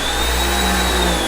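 A Karcher K1700 Cube electric pressure washer runs right after being switched on, giving a steady, fairly loud motor hum and drone with no talk over it.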